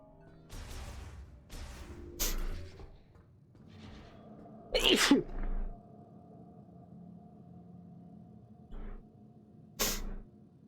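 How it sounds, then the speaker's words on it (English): A single sharp sneeze from a game character in Metroid Prime 4 stands out near the middle, surrounded by a few quieter vocal bursts and low ambient game hum. "Yeah, he sneezed, Garrus. He sneezed."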